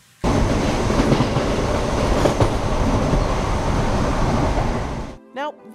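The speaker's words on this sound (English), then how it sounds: "a subway train zooming by" A subway train rushes past with a loud, sustained rumbling roar and rattle for several seconds, then cuts off abruptly, followed by a brief voice.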